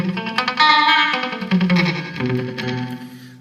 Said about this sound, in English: that's that slap back echo that I like really well